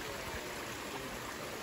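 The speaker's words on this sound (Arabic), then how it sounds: "Look at the waterfall." A natural stream flows beside a narrow hiking trail, a steady, soft rush of running water with no voices.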